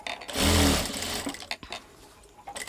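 A sewing machine runs in one short, loud burst while stitching a blouse seam, then slows and stops into quieter handling noise and a few clicks.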